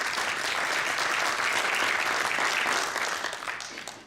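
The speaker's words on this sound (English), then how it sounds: "We have a round of applause for the team." A steady, dense round of applause from an audience for a team at a closing event, a continuous hiss of clapping that holds evenly, then tapers off toward the end.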